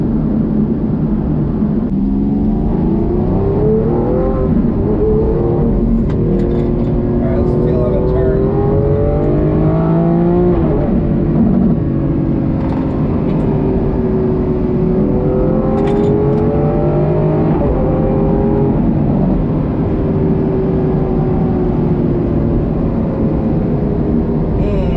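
A Lamborghini SVJ drives and accelerates, its engine revving up through rising, falling sweeps as it shifts, loud and close from inside, with a steady heavy roar throughout.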